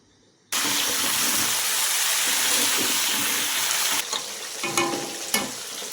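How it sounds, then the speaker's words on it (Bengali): A sudden burst of loud crackling sizzle as fish hits hot oil, staying intense, then softening into spattering pops and occasional clatters. "এই যে মাছ ভাজা হচ্ছে"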